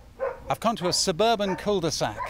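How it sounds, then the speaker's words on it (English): A dog barks and yips in a suburban cul-de-sac, its calls coming through beneath someone speaking close to the microphone for the whole stretch. "You can hear a dog barking there"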